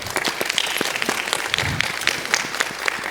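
An audience at a community discussion event breaks into applause, close and lively, with uneven individual claps cutting through the dense clapping throughout.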